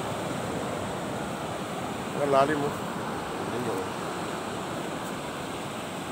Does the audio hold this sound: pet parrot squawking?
no